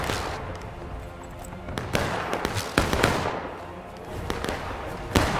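Musket fire in the Civil War game War of Rights crackles in scattered sharp shots, some near and some distant, in a dense battle ambience.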